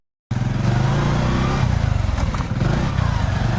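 A Hero motorcycle engine starts abruptly and then idles and revs close by with a steady, throbbing low rumble for about three seconds. No one speaks.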